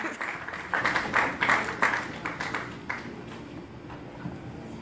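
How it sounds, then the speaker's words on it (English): An audience at a Third World Press youth poetry event at Betty Shabazz Academy claps for a poet, a moderate burst of applause that swells and then tapers off over a few seconds. "Please clap it up for Allison Horton."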